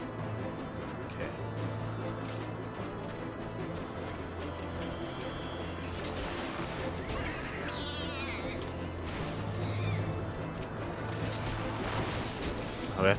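Cats meowing in the video game Final Fantasy XIV, over dense, steady game music and effects, the cries only moderately clear in the mix.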